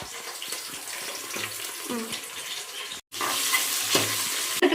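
Onions tipped into a pan of hot oil for mushroom biryani sizzle and fry steadily, with stirring scrapes and a brief cut midway before the frying resumes loudly.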